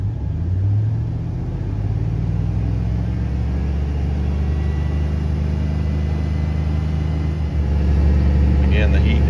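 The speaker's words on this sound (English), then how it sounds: "So now we're gonna do our rev cycles in 30." A 5.3L Chevrolet Silverado V8 revs under the hood during a coolant refill rev cycle, a close, loud engine drone rising in pitch then holding steady and surging again near the end.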